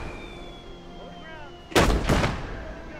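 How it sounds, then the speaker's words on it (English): Two heavy mortar launches from the World War II video game Gates of Hell boom in quick succession, each a loud close thump with a decaying rumble over a quiet background. "So I'm using my mortar to pepper"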